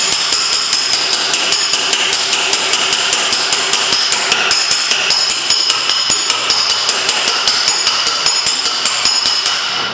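Rapid, steady hammer taps while hammering out a dent in metal, loud and close, ringing sharply in a constant rhythm throughout, with a low engine hum underneath.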